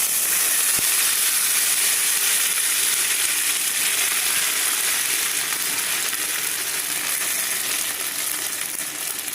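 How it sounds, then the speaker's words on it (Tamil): Rice flour batter hitting hot oil in a pan gives a loud, steady, close sizzle and crackle that fills the whole stretch, with one faint tap near the start. "எண்ணெய் ஊற்றி எண்ணெய் காஞ்சிடுச்சு இந்த மாவு ஊற்றணும்"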